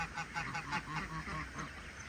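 A flock of farm geese honks loudly and repeatedly, their calls overlapping in a steady, noisy chorus.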